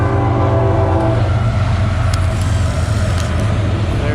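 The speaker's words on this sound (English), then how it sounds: "little train going by" A small train rolls past at a steady, fairly loud rumble with a continuous low drone and faint clicks from the wheels, heard outdoors in a small town with no talking.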